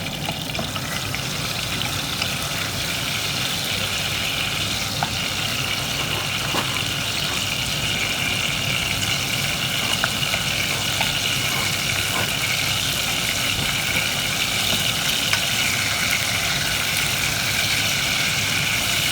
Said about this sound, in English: So put the salted fish first into the palm oil, and then wait for it to cook a bit